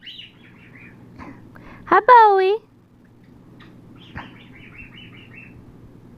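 A pet bird chatters close by with short chirps and one loud rising whistled call, while a person greets it softly over a quiet room.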